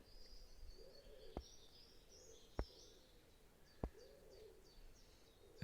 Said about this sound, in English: this tree and I are being caressed by the song of the doves and the other birds all around us